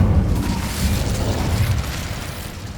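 An Incendio fire spell in Hogwarts Legacy lets out a rumbling whoosh of flame, a dense low roar that fades slowly over a few seconds with no talk.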